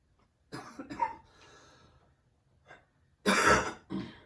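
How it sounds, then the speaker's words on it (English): Several coughs and throat-clearing bursts, close and fairly loud, with a short pause between clusters and a final strong cough near the end. "sorry about the coughing."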